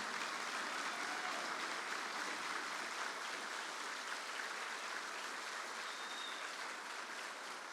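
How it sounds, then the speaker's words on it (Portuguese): Sustained applause from an audience at a Brazilian government ceremony on restoring university budgets, steady dense clapping with no talk, held evenly for the whole stretch. "queria pedir uma salva de palmas aos nossos estudantes e estudantes de todo o país aqui presentes."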